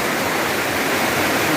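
Deep floodwater rushes through a flooded house, a steady loud broadband roar with no pauses or voices.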